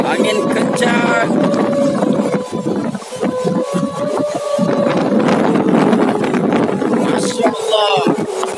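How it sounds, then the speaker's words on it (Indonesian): Strong wind on Mount Appasareng roars steadily and loudly across the microphone, gusting continuously with buffeting noise throughout. "Angin kencang."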